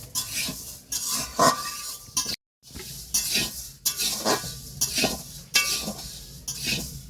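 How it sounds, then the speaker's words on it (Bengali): Steady sizzling with scraping and stirring as dry moong dal is fried in a metal wok, broken by a brief silence partway through, loud and close with no talk. "বন্ধুরা কড়াইয়ে ডাল দিলাম দিয়ে ভাজে নিচ্ছি"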